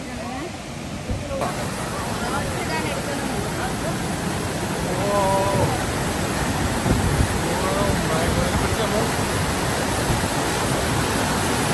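Amboli waterfall swollen after rain, its water crashing with great force in a dense, steady roar that fills the scene; a voice speaks briefly near the start.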